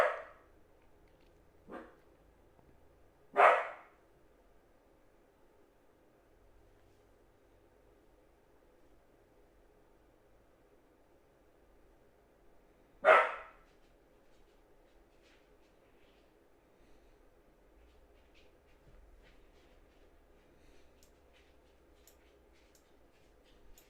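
A dog barks a few scattered times at a distance, short isolated yelps at the start and one more sharp bark later, over a quiet background with a faint steady hum.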